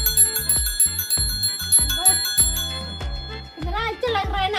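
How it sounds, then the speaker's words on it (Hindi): Bell on a village girl's bicycle, rung in a rapid series of bright metallic dings close by, followed by a person talking over the last few rings. "बजा के दिखाओ कैसे घंटी आवाज दे रहा है।"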